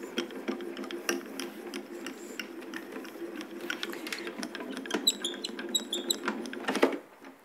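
Hand-cranked die-cutting machine rolling a shim, raspberry plate and large embossing folder sandwich through, a steady run of clicking, ratcheting mechanical noise ending in a few brighter clacks.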